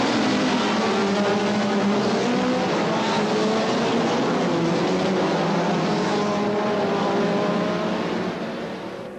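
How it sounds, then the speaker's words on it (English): Loud, continuous roar of several racing car engines revving hard together at a 1980 British Saloon Car Championship race start at Brands Hatch, a dense mechanical howl that fades slightly at the end. "A roar from the engines and crowd,"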